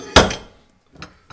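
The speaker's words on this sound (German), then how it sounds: "Das ist so ein Radlagerabzieher mit so einem fliegenden Hammer." A heavy wheel bearing puller with a slide hammer and threaded rod is handled, giving one sharp metallic knock followed by two fainter clanks, close up and with no talk.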